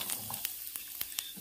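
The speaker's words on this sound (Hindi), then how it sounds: "अब डाल देते हैं हम जीरा, देन तड़क जाएगा हमारा, चटचड़ाने लगेगा।" Cumin seeds sizzling and crackling in hot mustard oil, a soft hiss broken by sharp, irregular pops and spits close by.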